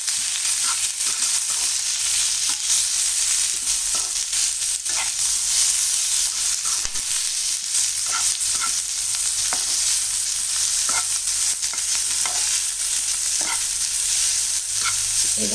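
Broad beans sizzle and fry in a pan with turmeric and chili powder, a steady hiss broken by frequent scraping stirs, close and continuous with no talking.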